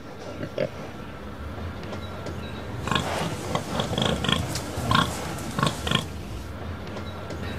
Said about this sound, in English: I choose pig. Then I make a recording.